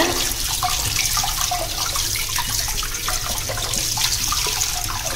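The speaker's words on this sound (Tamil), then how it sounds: "பப்பாளி காயை வந்து நல்லா கழுவி எடுத்துக்கோங்க" Raw papaya being washed under running tap water, a steady close splashing gush with small irregular splatters as the fruit is turned in the stream, with no voices.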